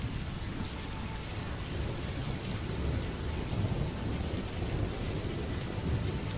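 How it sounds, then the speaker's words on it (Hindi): Heavy rain pours steadily with deep rumbling thunder rolling underneath, a dense continuous downpour with no voices. "तभी ठंडी हवाओं के साथ जोर जोर से बारिश होने लगती है"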